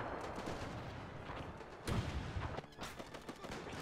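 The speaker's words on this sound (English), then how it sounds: "And they're firing at will." Soldiers firing rifles at will in the WW1 game Between Empires, a dense, continuous crackle of distant and nearby shots with a few heavier booms, under a low battlefield rumble.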